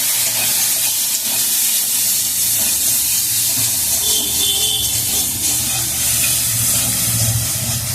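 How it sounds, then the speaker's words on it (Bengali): Spice paste with turmeric sizzles loudly and continuously in a hot pan while being sautéed for a vegetarian potato curry, a dense steady hiss with faint stirring scrapes and no talk. "এবার আমি মশলাটাকে একটু কষিয়ে নেবো।"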